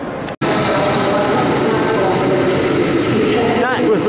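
A train rumbles along a station platform with a steady loud roar and a brief squeal of brakes near the end, while a person talks over it.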